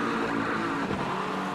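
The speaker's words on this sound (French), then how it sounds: "Bourdic, Faux, Menella, 7, 8, 9 sont les premières voitures passées au centre." GT3 race cars at Sebring drone past in a steady, sustained engine roar, the pitch shifting slightly as one car goes by near the end of the short burst.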